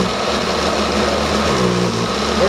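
A blender grinds tomatoes for homemade salsa, a steady, loud motor whir that runs without a break and holds an even pitch throughout.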